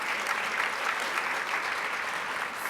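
Steady applause from a large audience at a NARAL Power of Choice gala, an even, continuous wash of clapping heard alone with no voices on top.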